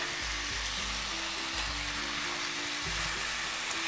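Bacon frying in a Lodge cast iron skillet over medium-low heat, a steady close crackling sizzle throughout, with a low hum underneath and no voices.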